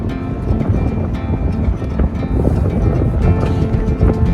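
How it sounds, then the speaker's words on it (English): Steady wind buffets the microphone in a continuous low rumble, with faint creaks and clanks on a sailboat in the background, Saint Martin. "It's windy."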